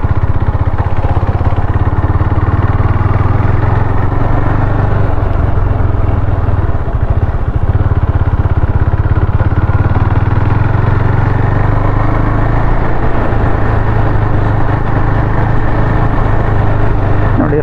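A KTM Duke motorcycle engine on a ride, a steady loud drone with wind rush, continuous and close for the whole stretch, with a voice faintly underneath.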